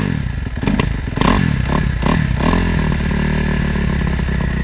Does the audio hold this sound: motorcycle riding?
yes